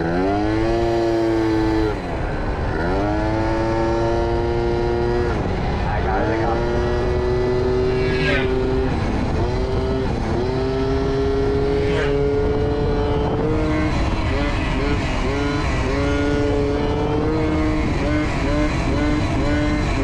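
A Yamaha Booster 70cc scooter with a sport air filter, ridden and accelerating on a windy day; its buzzing two-stroke engine revs up and down loudly and close, with wind noise and someone talking over it.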